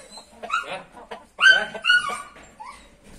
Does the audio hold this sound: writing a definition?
no